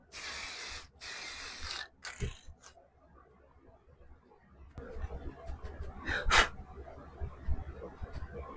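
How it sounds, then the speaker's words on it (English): Two steady bursts of aerosol spray hiss, followed by soft rustling, light taps and handling noises close by. "Got my spray. I'm going to spray"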